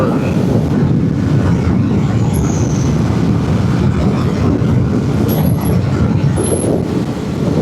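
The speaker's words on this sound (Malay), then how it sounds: "Ni angin kuat pula." Strong wind roars past while riding a Modenas Elit 150S motorcycle at speed, a loud continuous buffeting rush over the mic with a few faint high whines.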